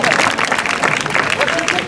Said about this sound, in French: Alors on peut l'applaudir parce que je pense que c'est celui qui vient de plus loin.